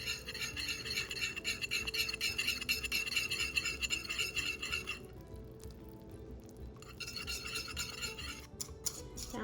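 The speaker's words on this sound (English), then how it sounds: "Now I'm just whisking it to cool it down." A whisk scrapes and clatters rhythmically inside a pot of hot baked-apple mixture taken off the heat, stirred briskly and close by, then pausing and starting again near the end.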